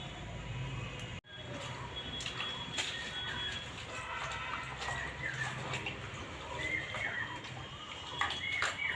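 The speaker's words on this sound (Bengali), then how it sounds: "মাঝে মধ্যেই তোমরা পাখির ডাক শুনতে পারো" Birds call faintly from jungle behind a house, with brief chirps rising above steady outdoor background noise, most noticeable toward the end.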